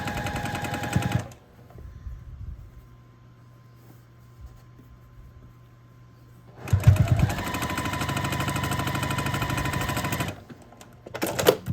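Sewing machine stitching a seam across a scrappy sampler quilt block, two loud rapid mechanical runs separated by a long quiet pause, then a short final burst, close up with no voices.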